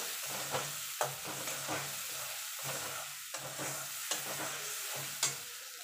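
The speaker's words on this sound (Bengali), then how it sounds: "দিয়ে ভালো করে নেড়ে নেব" Ground mustard paste being stirred into a tilapia and eggplant curry in a pan; a soft sizzle runs under rhythmic scraping strokes of a spoon about once a second, close and moderately quiet, without voices.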